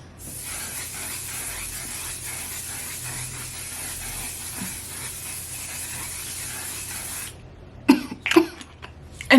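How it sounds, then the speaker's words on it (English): One Size setting spray misted from a bottle in a long continuous hiss lasting about seven seconds, close and fairly loud, then followed by a few coughs. "this is just One Size setting spray"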